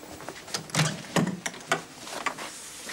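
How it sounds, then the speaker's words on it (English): Knocking on a door sounds as several sharp raps in loose, uneven clusters, close and fairly clear against a quiet room, with brief pauses between the groups of hits. "I think there's someone knocking on your door."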